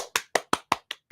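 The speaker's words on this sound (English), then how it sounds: "Give yourselves a round of applause." Six separate, evenly spaced hand claps ring out one after another, crisp and fairly close, with short silent gaps between them and nothing else underneath.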